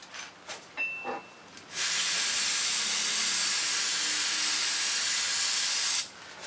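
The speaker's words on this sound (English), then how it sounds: "Non-chlorinated brake parts cleaner." Non-chlorinated brake parts cleaner sprayed from an aerosol can onto a brake master cylinder, a single close, loud, continuous hiss lasting about four seconds after a few faint clicks and handling noises.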